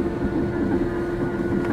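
A CAT D6 bulldozer pushing trash at a landfill gives a brief, steady, heavy diesel rumble with a dense mechanical drone, heard up close and without voices.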